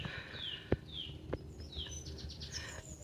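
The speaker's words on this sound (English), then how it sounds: "All I can hear is the bird song." Faint, scattered bird chirps and whistled calls drift over a quiet churchyard hush, with a couple of brief knocks in the background.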